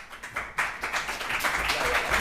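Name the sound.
audience applause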